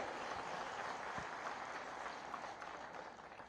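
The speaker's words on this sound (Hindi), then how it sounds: "शिवराज सिंह की गवर्नमेंट को तालियां बजाकर तक कुछ बधाई दिया जाना चाहिए" Steady applause from a crowd at a public meeting in Bhind, Madhya Pradesh, dense and sustained throughout, fading slightly at the end.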